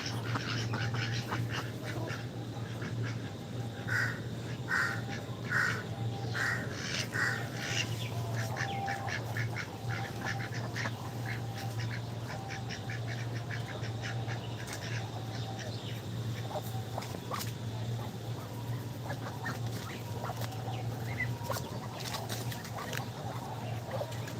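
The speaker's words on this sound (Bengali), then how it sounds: "দেখো কত সুন্দর হাঁসগুলা" Ducks at an outdoor outing in Mirsharai, a series of nasal quacks in a rhythmic burst early on, then scattered calls over a steady low hum and background murmur.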